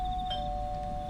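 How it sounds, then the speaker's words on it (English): A doorbell rings in a Mothman video game, sounding as a faint, steady electronic chime tone that shifts pitch slightly partway through, over low background rumble. "Wait, does the doorbell actually work?"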